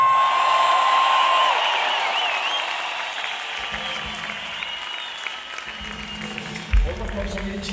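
Applause from a concert crowd in an arena at a show, loud sustained clapping and cheering that slowly fades, with a whistle early on and a burst of crowd noise near the end.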